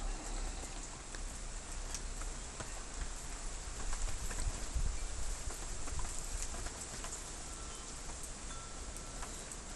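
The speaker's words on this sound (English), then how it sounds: "now here comes the wind and the rain again" Wind and rain outdoors make a faint, steady wash of hiss and patter that swells slightly midway, with no one speaking.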